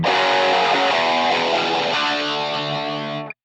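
A humbucker-equipped electric guitar through a Line 6 Pod Go with Minotaur drive and reverb off plays thick, distorted rhythm chords that sustain loudly, shift twice, then cut off abruptly; no voices.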